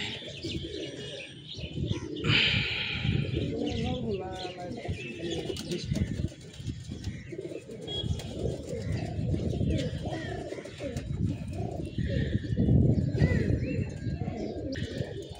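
Pigeons coo and flutter amid birdsong and background chatter, with people talking intermittently throughout.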